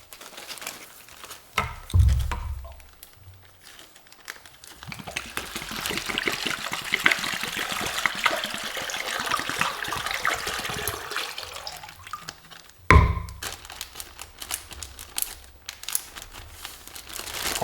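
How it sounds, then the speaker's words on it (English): Water poured into a makeshift tent built from duct tape, a continuous trickling pour with crinkling of the tape, bracketed by louder splashes and handling noises. "And then we will put some water in this and see if it holds water."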